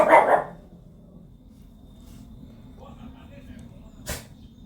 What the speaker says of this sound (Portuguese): os cachorros latiram lá na rua e o meu latiu aqui também